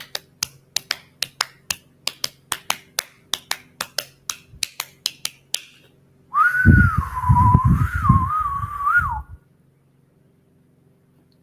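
Rapid group hand claps fade out, then a single sustained whistled tone wavers up and down for a few seconds before stopping, leaving near silence.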